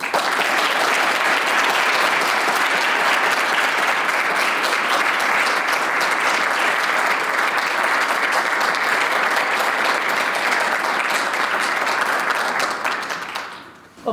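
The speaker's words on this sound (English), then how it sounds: "Please give her a round of applause." Sustained audience applause fills a banquet hall at a law students' alumni banquet, loud and steady with dense clapping throughout before tapering off at the very end.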